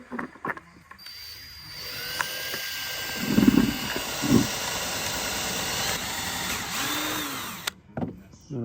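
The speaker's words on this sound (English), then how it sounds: "this part's going to drill through the wood to prevent it from cracking" A power drill countersinks screw holes into a wooden desk frame. One sustained whirring run lasts several seconds with a couple of heavier grinding bursts in the middle. Brief knocks and handling noise come before and after.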